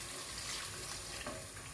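Water poured a little at a time into a hot frying pan, giving a steady, dense sizzle and hiss that fills the whole moment without pause.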